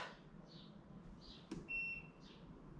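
A short high electronic beep sounds once after a faint click as a 25 amp electrical supply is switched off, over a quiet low hum with a few soft hisses around it.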